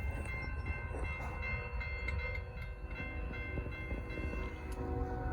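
A Norfolk Southern freight train rolls past on the Charlotte District, a steady rumble of rail cars with faint clicking wheels and tonal hums, heard alone at moderate distance for several seconds.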